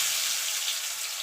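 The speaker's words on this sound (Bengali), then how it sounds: "আলুটাকে দিয়ে আলুটাকে একটু লাল লাল করে ভেজে নেব।" Potato pieces fry in hot oil in a pan, giving a steady, close hiss and sizzle with no pauses over a brief moment.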